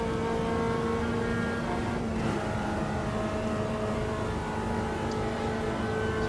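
A Chevy Chevette in the AMS2 racing game drones loudly and steadily through a lap of Interlagos, its engine note holding nearly constant pitch with no talking.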